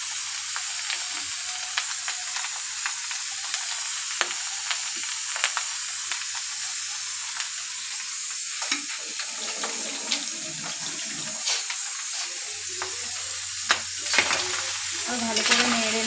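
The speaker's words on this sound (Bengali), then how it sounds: "ভালো করে নেড়ে নেবো পোলাওটা।" Pulao with sugar, shahi jeera, mace and nutmeg is stirred and fried in a pan, a steady close sizzle threaded with repeated scraping and clicking spoon strokes, no talking.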